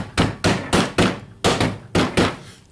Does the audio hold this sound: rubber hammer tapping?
yes